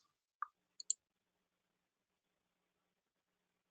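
Computer mouse clicks during office billing software work: a short click, then a quick pair of sharp clicks close together, isolated and clear in an otherwise silent room.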